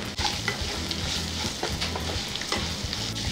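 Curry leaves, ginger garlic paste and turmeric sizzle and fry in a pan for a quick potato side dish, with a spatula scraping and stirring in irregular strokes over a steady hiss, close and alone.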